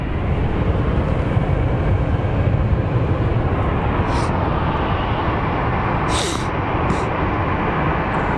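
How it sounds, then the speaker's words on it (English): An Alaska Airlines airliner arriving at Phoenix Sky Harbor airport makes a steady, loud, broadband jet roar that holds for the whole stretch, with a few brief faint high hisses on top. "So we have another Alaskan Airlines coming in from Payne Field"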